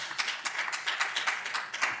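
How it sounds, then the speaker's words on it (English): A room of people at a city council meeting claps in steady applause, with quick overlapping claps that stay fairly even and moderately loud, with no talk over it. "This is good when all of us are clapping for it"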